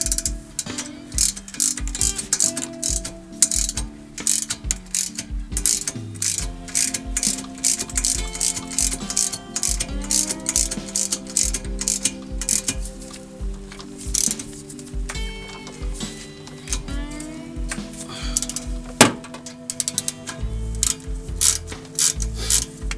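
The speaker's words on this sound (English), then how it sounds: "And we can tighten these bolts here." A hand ratchet wrench tightening the rear brake caliper bolts on a 2007 Ford Mustang, with rapid clicking pawl ratchets in continuous runs and short pauses, close-up and loud throughout.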